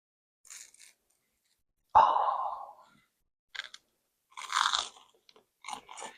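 Close crunchy bites and chewing of a spicy grilled cheese sandwich, several separate crisp bursts in a quiet setting, with a soft exhale-like sigh after one bite.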